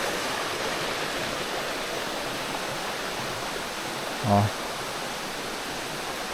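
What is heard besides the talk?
river water flowing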